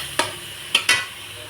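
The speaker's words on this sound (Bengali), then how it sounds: "এই যে দেখুন, একটু ভাজা ভাজা হয়েছে মশলাটা" Spices frying in a pan after roasted peanuts, with three quick scraping stirs cutting through a faint sizzle in a short, quiet stretch with no talk.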